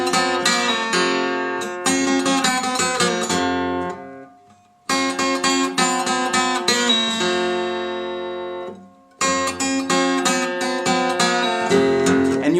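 Acoustic guitar plays a Delta blues lick, with pull-offs to open strings over a steady thumbed bass, repeated three times with short pauses between phrases, close and clear with no talking.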